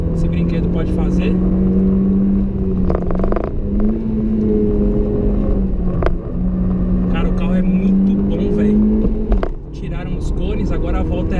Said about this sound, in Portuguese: Vamos dar uma moída nesse Civic aqui agora.